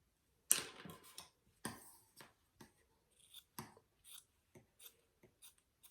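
Scissors cutting natural-fiber fabric for a homemade mask with a replaceable filter: a close series of crisp, irregular snips with short quiet gaps between cuts.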